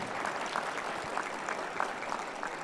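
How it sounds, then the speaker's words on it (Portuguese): A small audience at a church gathering applauds, soft and somewhat distant, with a steady patter of many hands and no speech over it. "Eu queria uma salva de palmas para Eduardo."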